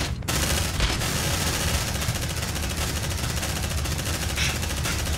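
Sustained rapid automatic gunfire from the video game Aliens: Dark Descent, a dense, loud fusillade of overlapping shots that runs without pause from just after the start to the end.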